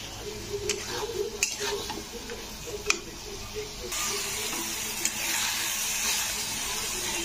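Soybean chunks are stirred in a masala gravy, with a spoon scraping the pan in irregular clinks over a steady low sizzle that grows louder and brighter halfway through.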